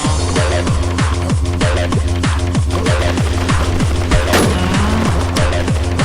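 Rapid gunfire in the survival shooter Infestation during a PvP fight: a steady, loud stream of evenly spaced shots, roughly four per second, each with a booming low thump, continuing throughout with a brief crash near the end.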